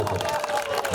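An audience claps at a junior marathon event in Juhu, a brief burst of dense, steady applause from a crowd with voices mixed in.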